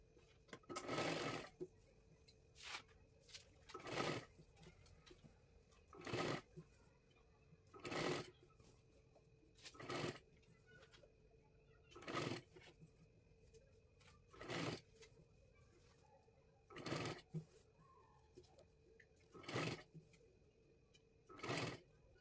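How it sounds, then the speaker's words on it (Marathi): Short bursts of a sewing machine stitching a double seam along the side of a designer dress, about ten quick runs spaced evenly with brief pauses, close and moderately loud with no talk. "आपल्याला अजून एक डबल शिलाई पूर्ण साईडला मारून घ्यायची आहे"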